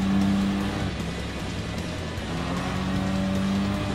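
Race cars in the video game Gran Turismo Sport, including an MX5, BRZ and GT86, drone and rev together in a steady, loud engine roar with some tire noise, without talk.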